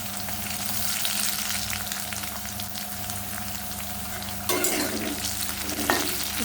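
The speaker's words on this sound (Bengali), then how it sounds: "আলুটাকে একটু ভালো করে ভেজে নেব" Potatoes frying in a pan with a pinch of salt, a steady close sizzle with occasional scraping stirs, louder bursts of stirring near the end and no talking.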